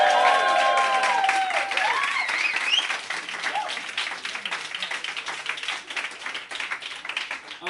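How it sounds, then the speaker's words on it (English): An audience at a live comedy show applauds together in a loud, dense burst of clapping that holds steady for a few seconds, then thins out and softens toward the end. "Give yourself a round of applause."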